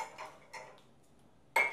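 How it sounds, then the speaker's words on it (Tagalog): Plates and cutlery clink during dishwashing in a home kitchen, with two soft clatters followed by a sharper, louder ring of crockery at the end. "Maghugas ka ng pinggan."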